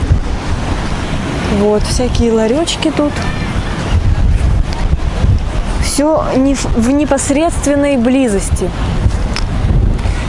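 Strong wind blows on an Azov Sea beach at Golubitskaya, buffeting the microphone with a constant roar mixed with surf. Someone talks over it throughout.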